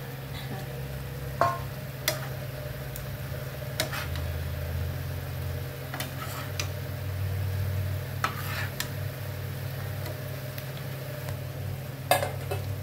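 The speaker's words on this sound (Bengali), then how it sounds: "এবার মাছগুলোকে দিচ্ছি আমি।" Fish pieces for a spinach fish curry sizzle in a pan: a steady close frying hiss runs throughout, with occasional sharp clinks and pan knocks, and no voices.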